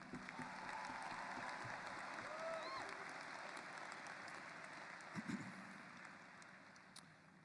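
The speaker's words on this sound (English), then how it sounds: "Let's give them another round of applause." Faint, distant applause from a crowd at a 2025 Oswego High School graduation ceremony, a steady clapping wash that thins out over several seconds amid hollow room and wind noise.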